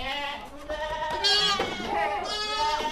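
Young male goats on a farm bleat noisily in a steady overlapping chorus, several nearby calls wavering over one another, with a voice speaking briefly underneath.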